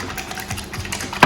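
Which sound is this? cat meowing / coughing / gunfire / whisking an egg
whisking an egg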